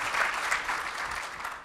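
Audience applause at a book presentation in Belgrade, a dense, steady patter of many hands clapping indoors for under two seconds, with no voices over it.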